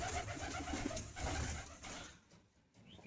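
Pigeons coo close by inside an indoor loft during a storm, with soft, repeated throaty calls over a busy background rustle that fades toward the end.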